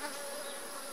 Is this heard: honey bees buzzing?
yes